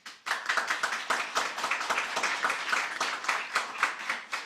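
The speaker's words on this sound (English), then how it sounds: "I see you clapping there" A single person claps their hands repeatedly during an online graduation ceremony, a close, steady run of sharp individual claps at a brisk, slightly uneven pace, alone with no talking.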